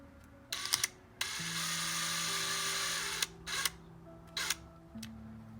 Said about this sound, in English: So I'm gonna go ahead and install the other droop screw here.